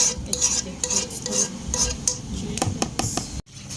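A chicken dish is stirred in a pan, with close, rhythmic scrapes and clinks of a utensil against metal over a faint sizzle, then a brief break near the end.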